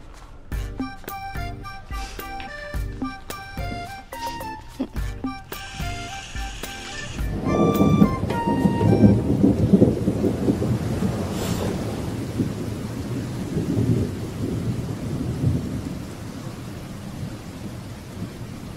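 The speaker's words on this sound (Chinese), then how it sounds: "下雨了" Heavy rain pours down in a dense, loud wash with rolling thunder. It rises in after a stretch of music and keeps up steadily.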